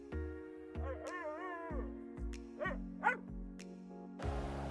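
Toto, a little dog, gives a run of yips and whimpering barks, several short bursts in a row over a soft sustained music bed, fairly close and moderately loud.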